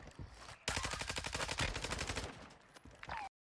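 Automatic gunfire in a battle royale video game, a loud, rapid burst of evenly spaced shots lasting a few seconds, with a short pause before another quick burst at the end.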